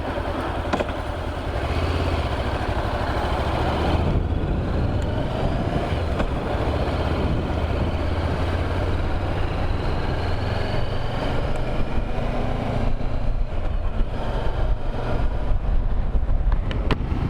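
Steady engine and road rumble from inside a moving vehicle, continuous and fairly loud, with no one speaking.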